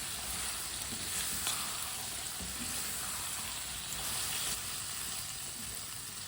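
Chopped turnip pieces being stirred through a hot pan for a vegetable sabzi, a steady soft sizzle with light scraping of the spoon throughout, fairly quiet and continuous with no talk.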